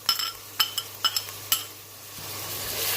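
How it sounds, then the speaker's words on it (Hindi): Tomatoes, garlic-ginger paste and green chillies are dropped into a pot with a few clinks and scrapes of a spoon against metal, followed by a faint, building sizzle. The whole passage is quiet, with no voices. "अब ये हम टमाटर इसमें डाल देंगे।"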